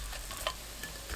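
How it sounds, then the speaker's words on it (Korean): Fish cake stir-fries over high heat in a hot pan without oil, giving a steady, soft sizzling hiss with a faint clink near the middle. "팬이 달궈지면 어묵 넣고 센 불로 볶습니다."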